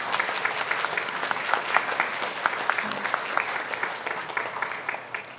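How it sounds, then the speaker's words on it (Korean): A church congregation applauds to welcome a missionary, giving sustained, even clapping from many people with a few sharper individual claps standing out over the steady wash. "우리 박수로 환영하겠습니다."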